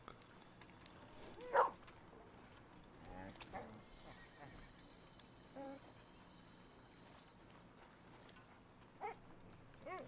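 A dog in Red Dead Redemption 2 lets out a few short barks amid horse whinnies and clip-clopping hooves, with game voices talking at times.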